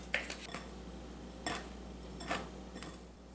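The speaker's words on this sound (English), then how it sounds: "Okay, let's mix that together." A spoon stirs cinnamon filling in a bowl for homemade cinnamon rolls, making four or five quiet clinks and scrapes against the bowl at irregular intervals over a faint, low background hum.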